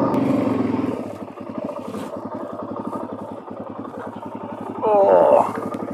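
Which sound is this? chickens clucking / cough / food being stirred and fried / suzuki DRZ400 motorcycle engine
suzuki DRZ400 motorcycle engine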